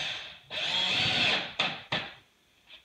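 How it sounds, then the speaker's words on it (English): Power drill driving screws into a subfloor on a house renovation, a close whirring burst lasting about a second, then two short sharp spurts and a faint final blip. "He's just screwing some down"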